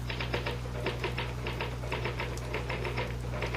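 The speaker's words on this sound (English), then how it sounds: "the truth is that the typewriter, or rather, Mr. Gahn, does all the brain work" Typewriter keys clatter as a radio drama sound effect, a rapid irregular run of close, crisp mechanical strikes over a steady low hum, with no voices.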